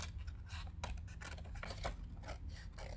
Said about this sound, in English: So I'm just going to hurry and cut this out.